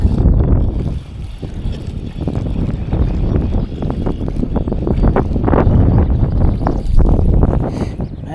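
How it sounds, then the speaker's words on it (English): Strong, gusty spring wind of around 27 mph roaring across the microphone outdoors during fishing, with loud continuous buffeting and surging gusts and no voices. "All this wind being blowing up here."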